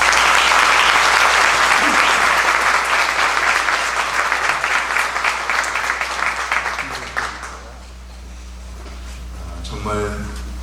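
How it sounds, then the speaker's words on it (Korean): Loud sustained clapping from a large church congregation, fading out after several seconds into quiet room sound. "우리 목사님 올라오실 때 한번 크게 박수로 환영해 주시기 바랍니다."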